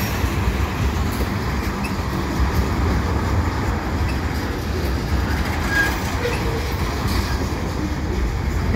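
A CN eastbound mixed freight train with tank cars rumbles steadily past nearby in St Laurent, a continuous heavy roar of wheels and cars that holds level for the whole stretch.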